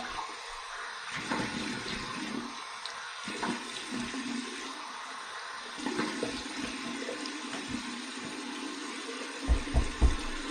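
Cold tap water runs steadily from a faucet to rinse a shaving brush, a continuous hiss-like flow with faint shifting splashes and a few soft knocks near the end.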